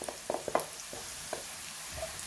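Chilies and curry powders added to softened onions in a hot pan, sizzling quietly with a few sharp taps and scrapes of stirring early on, close and low in level, no one speaking.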